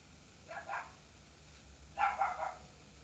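A small dog barks outside a window, two short bursts of yapping, the second a quick run of several barks, somewhat distant and moderately loud with no talking.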